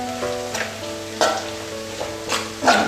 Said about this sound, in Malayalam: തക്കാളി കുറച്ചുകൂടി ഒന്ന് വഴലാനുണ്ട്.